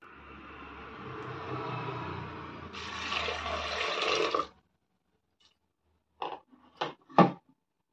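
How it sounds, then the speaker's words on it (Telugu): Water pours into a pressure cooker pot holding cut cluster beans for boiling, a steady splashing rush that swells, then stops abruptly, followed by a few short clanks and knocks of the pot. "ఇప్పుడు ఇందులోకి ఇవి ఉడకడానికి సరిపడా నీళ్ళు వేస్తున్నాను"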